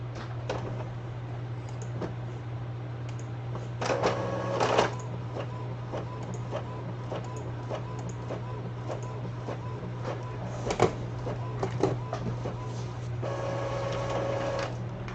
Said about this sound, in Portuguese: Deixa eu imprimir isso aqui também.